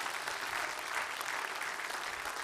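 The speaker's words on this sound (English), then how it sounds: "Let's give the Lord a clap." A congregation clapping during a church service, a fairly quiet, even patter of many hands held steadily for a couple of seconds.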